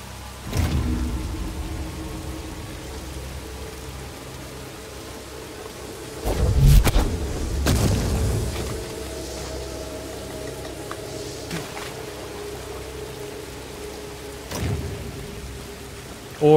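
Rushing waterfall in the Star Wars Jedi: Fallen Order video game, a steady broadband roar of falling water broken by a few louder thumping bursts and crashes, no voices.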